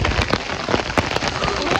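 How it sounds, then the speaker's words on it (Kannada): Heavy monsoon rain lashes down near Hesaraghatta lake in a loud, dense patter, with sharp close splashes and drips hitting a surface. "ಕ್ರೇಜಿ ಮಳೆ ಬರ್ತಿದೆ."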